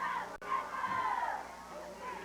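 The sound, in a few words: crowd cheering at a football game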